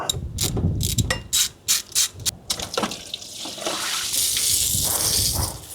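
A ratchet socket wrench working on the cooler lines of a 300HP Nissan Patrol, giving a close series of sharp rhythmic clicks that slow into single ticks before a steady hissing wash takes over.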